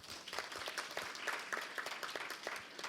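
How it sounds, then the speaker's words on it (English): A small seminar audience applauds the speakers at an adolescent-learning session, the individual claps distinct and fairly sparse, heard at a moderate distance. "Can you give them a round of applause, please?"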